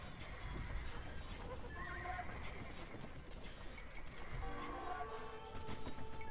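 Horses in the Age of Empires 2 strategy game neigh and whinny several times as they die, over battle clatter and steady game ambience.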